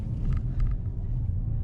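A car drives along with a steady low rumble of engine and road noise, close and continuous, with a few faint higher clicks on top.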